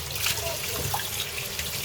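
Water running and splashing while chicken pieces are rinsed under a tap in a home kitchen, a short steady trickle with soft splashes, fairly close.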